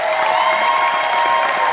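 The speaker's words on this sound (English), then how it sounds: "Can we get a big round of applause for these two ladies?" A wedding audience applauds two women during a toast, a steady wash of loud clapping with some cheering throughout.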